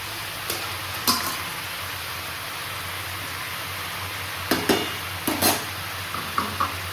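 Fish heads and leafy greens go into a hot pan with a few sharp sizzling bursts over a faint steady hiss, mostly quiet between the splashes, with no voices.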